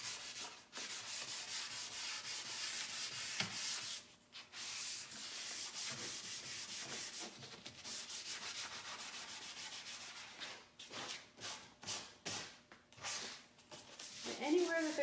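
Painted wooden furniture is sanded by hand to distress it, with long continuous rubbing strokes broken by short pauses, close and steady, rougher scratchy passes near the end.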